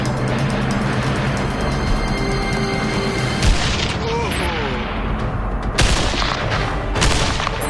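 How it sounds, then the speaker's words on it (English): A grenade blast and gunfire on a shooting range: dense, continuous crackling shots and booms fill the whole stretch, with a sharper burst near the middle and another heavy hit late on, while voices talk over the firing. "On 3, 2, 1, throw the grenade!"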